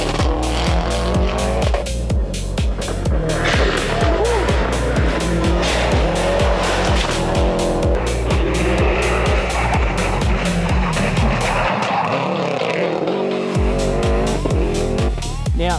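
A blue Subaru rally car is driven hard, its engine roaring continuously with rapid gear and rev changes while tires squeal and skid, loud and close throughout.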